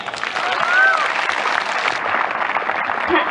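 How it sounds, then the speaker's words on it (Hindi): Loud applause from an audience at a college event after a patriotic poem by an NCC cadet, dense clapping with voices mixed in. "तो उसके लिए एक बार जोरदार तालियां"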